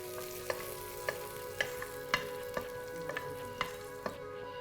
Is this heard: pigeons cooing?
no